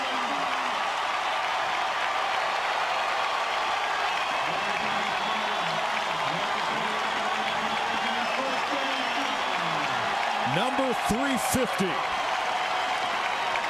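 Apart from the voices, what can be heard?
football stadium crowd applauding and cheering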